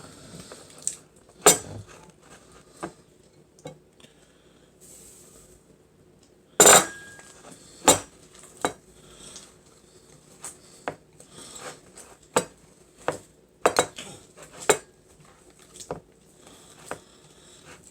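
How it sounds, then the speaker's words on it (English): Softened butter being mixed with seasoning in a bowl, heard as scattered utensil clinks and soft squishy scrapes against the bowl, irregular and close, with no talk. "Best to use softened butter, because it makes mixing so much easier."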